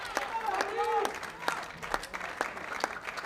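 A crowd applauds a strike at a men's bowling final at the 2015 European Champions Cup in San Marino, with steady clapping under a commentator's voice and a brief rolling rumble near the start.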